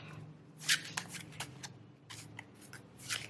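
Cards being shuffled close up: quick riffling bursts and soft flicks, a few separate shuffles in a quiet room.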